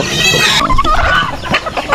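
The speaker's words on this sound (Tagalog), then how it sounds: "Ito naman may sisiw tayo dito." Chicks and chickens on a rural backyard farm during feeding, loud close clucking and cheeping calls overlapping in quick irregular bursts with no talking.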